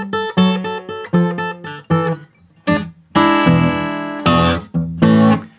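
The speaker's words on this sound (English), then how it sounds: "A really common variation on this same turnaround is the triplet variation." A guitar plays a triplet variation of a blues turnaround in A as plucked note groups in a bouncing rhythm, with short gaps and then longer ringing chords, loud and close with no talking.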